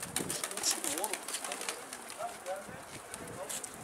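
Pigeons cooing in soft repeated phrases close by, mixed with fluttering and chatter from other birds, while people talk quietly in the background.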